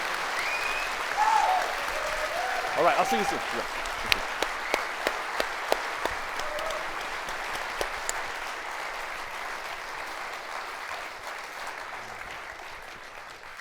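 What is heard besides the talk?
live show audience applauding guest Dan Hardy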